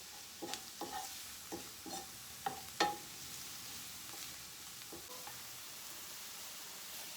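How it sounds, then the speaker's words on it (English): Eddo leaf bhaji gets a quick sauté in a pan, a faint low sizzle punctuated by a series of light spatula taps and scrapes, no talking. "And this is just to remove some of the rawness from the eddo leaf bhaji. Just a quick saute."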